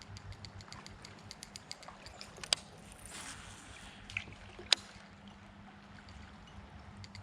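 A sit-in kayak paddled on sunny water, soft rhythmic paddle dips and trickling drips with occasional light knocks against the hull, quiet and close, no talking.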